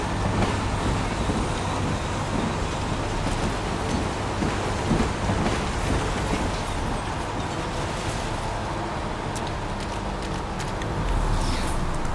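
Steady rain falls at an outdoor crime scene on a wasteland in the video game Heavy Rain, a dense continuous hiss with a low rumble underneath, constant and fairly loud throughout.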